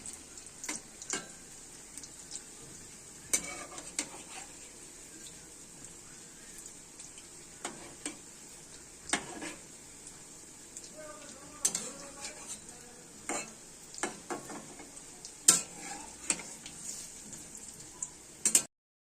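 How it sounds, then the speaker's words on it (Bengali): Soft, steady oil sizzle of vegetable pakoras (fritters) frying in hot oil, broken by frequent stirring scrapes and occasional utensil clinks. "তেল গরম হয়ে গেছে, এবার বড়ার আকারে এগুলো তেলে ছেড়ে দেওয়া হচ্ছে"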